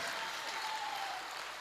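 A poetry recital audience at Bageshwar Dham breaks into dense, steady applause, a loud wash of many hands clapping together without pause, with no voices standing out.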